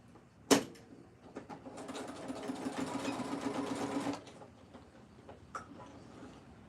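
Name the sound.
sewing machine stitching down a fabric flap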